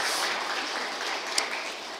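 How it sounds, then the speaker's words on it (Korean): A church congregation applauds the choir at a New Year Sunday service, an even wash of clapping from a large room that holds steady throughout, with one sharper clap standing out midway. "크게 한번 박수"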